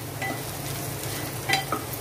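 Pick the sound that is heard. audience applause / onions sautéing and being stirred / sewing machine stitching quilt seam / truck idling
onions sautéing and being stirred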